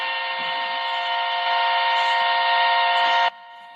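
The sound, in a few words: horn alarm sound effect on a live stream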